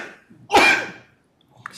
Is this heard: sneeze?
yes